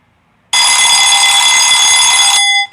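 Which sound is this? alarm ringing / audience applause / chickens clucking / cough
alarm ringing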